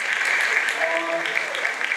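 An audience applauding at a church celebration of a priest's 25 years of priesthood, steady dense clapping from a crowd, loud and sustained, with a voice faintly underneath.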